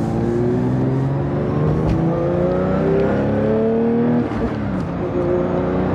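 Engine of a Porsche 992 GT3 heard from inside while driving, a steady loud drone with rising and falling harmonic tones as revs shift, including a brief blip near the end.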